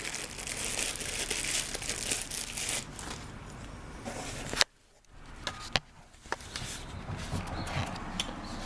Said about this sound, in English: I'll tear the wrapper off this package.